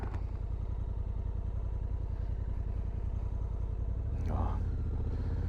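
A 2024 Honda Africa Twin with an automatic gearbox rides along steadily, its engine a low, continuous rumble mixed with wind noise, with a brief louder swell near the end.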